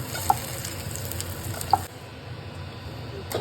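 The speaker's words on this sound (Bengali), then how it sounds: "এই যে আমি এখন বড়াগুলো ভেজে তুলে নিচ্ছি।" Lentil fritters fry in oil in a wok with a quiet, steady sizzle, broken by two soft utensil clicks as the pieces are lifted out.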